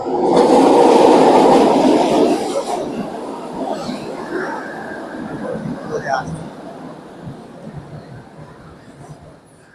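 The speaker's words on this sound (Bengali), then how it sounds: "এই যে ট্রেন আসতেছে, এই ট্রেনে আমরা এখন রওনা দেবো।" A six-coach train rumbling loudly past at close range, then fading to a lower, uneven clatter with a faint squeal as it moves on, with people talking over it.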